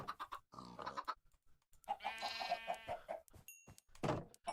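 Chickens cluck in a Minecraft modpack game, several short game-audio bursts scattered across the clip at moderate level, with no talking over them.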